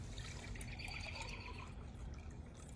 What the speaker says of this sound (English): I need to pour some water into my cup.